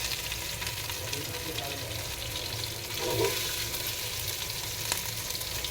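Ginger garlic paste fries for chicken biryani with a close, continuous sizzle and crackle, and a brief stirring scrape partway through.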